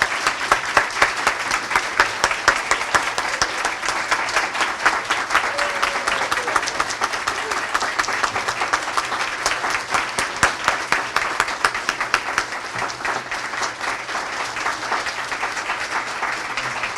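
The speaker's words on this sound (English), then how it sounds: "please join me in another round of applause" An audience at an awards ceremony applauds, a dense and sustained patter of many hands clapping evenly for about seventeen seconds at moderate loudness.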